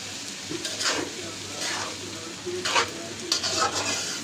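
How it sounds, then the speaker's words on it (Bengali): Rice for pulao fries in a wok, a continuous close sizzle broken by repeated scraping strokes of a spatula as the grains are stirred again and again, with no speech. "দেখতেছেন যেভাবে আমি ভালো করে নেড়ে নিচ্ছি বারবার, ওরকমভাবে আপনিও খুবটা ঘন ঘন নাড়া দিয়ে দেবেন যাতে কড়াইয়ে না লেগে যায়।"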